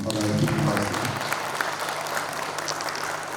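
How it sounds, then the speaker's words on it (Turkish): A crowd at the Adalet Birlik Partisi sixth founding anniversary event applauds in a thick, sustained roar of clapping. Faint low music sits under the opening moment, then steady loud clapping fills the rest. "Kocaman alkış gelsin."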